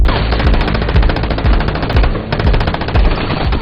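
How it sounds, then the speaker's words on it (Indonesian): Gunfire in a film shootout scene: loud, dense, continuous machine-gun bursts rattling without pause, close and overpowering, with no voices. "baku tembak pun terjadi"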